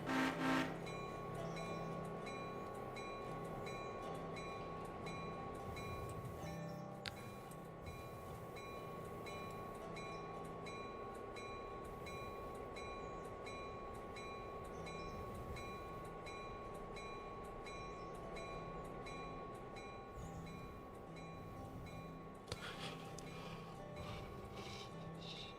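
A passenger train in a railroad video game rumbles along steadily with a continuous mechanical drone and faint rhythmic clatter, even and moderately loud throughout, with no talking.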